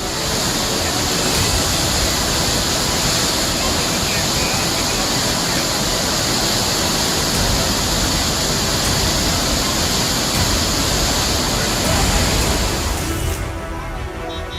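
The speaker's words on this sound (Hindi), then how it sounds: "देहरादून की यह नदी यहां की लाइफलाइन मानी जाती है, लेकिन भारी बारिश से ये पूरे उफान पर है।" A monsoon-swollen river in Dehradun rages after heavy rain, a loud, unbroken roar of rushing floodwater that fills the whole stretch before easing slightly at the very end.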